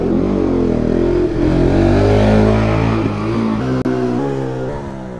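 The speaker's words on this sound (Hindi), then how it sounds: "विली मार रहा है गाइस" A motorcycle engine revs hard and holds a high, loud, continuous drone while the rider pulls a wheelie, with a slight dip and a brief sharp click near the end.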